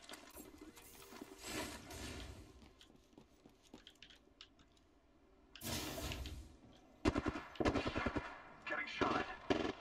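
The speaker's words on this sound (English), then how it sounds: "Getting shot." Rapid gunfire in Apex Legends striking the player, with bursts of automatic shots and impacts, a loud cluster midway and a chattering string near the end over busy game sounds.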